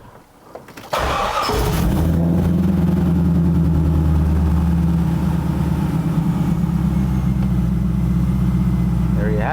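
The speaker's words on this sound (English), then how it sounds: "turn the key on, and start this vehicle up." A car engine with no oil pressure and a maxed-out oil pressure gauge cranks and starts, then settles into a steady, loud, even idle that runs on close by without pause.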